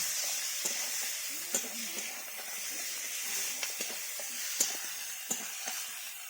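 Crushed ginger and garlic, added with onion, frying in a pan for a taro-leaf recipe give a soft, steady sizzle and hiss, with occasional light clinks and stirring taps, fairly quiet and without talk.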